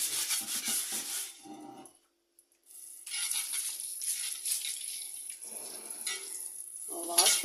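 Water runs and splashes while a cast iron dosa tava is washed and scrubbed, in uneven close bursts with a brief silent gap partway through.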